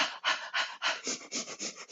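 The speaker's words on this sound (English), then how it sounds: "little panting." Rhythmic panting during a mobility exercise session, about eight quick breathy pants in steady succession, close and clear with no talk.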